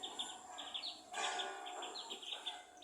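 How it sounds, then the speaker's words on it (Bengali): Small birds call outdoors after rain, a steady run of high repeated chirps and tweets at moderate distance over faint background hiss, with no talk. "পাখি ডাকতেছে কি সুন্দর, ও একটু ছোট ছোট পাখি"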